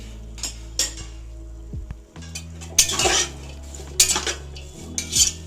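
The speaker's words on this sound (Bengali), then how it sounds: "এরপরে আমরা যে ফুলকপিগুলো কেটে রেখেছিলাম সেই ফুলকপিগুলো দিয়ে দিচ্ছি।" Cut cauliflower florets go into a hot pan over a full gas flame for a restaurant-style veg dish, giving several clattering metal scrapes and clinks as a spoon stirs them, over a steady low hum with no talk.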